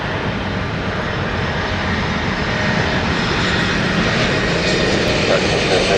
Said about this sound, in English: Embraer for Swiss, that is unusual.